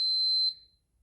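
A single high-pitched electronic beep from a 26-gallon air compressor running on a junkyard car battery, steady for half a second before cutting off into near silence.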